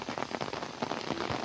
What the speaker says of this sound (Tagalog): parang medyo malakas-lakas na ambon lang yan